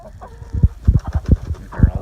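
Chickens in a backyard coop of about twenty birds, including Old English, Dutch and modern game breeds, clucking in a quick irregular burst of short calls, close and moderately loud with no talk.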